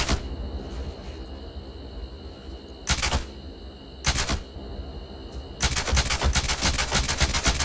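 Rifle fire in the video game Starfield: several loud, sharp bursts of gunshots, the last a longer rapid volley, over a constant humming game background.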